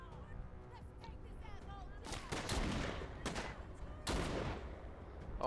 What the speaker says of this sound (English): Dang, she's good at shooting.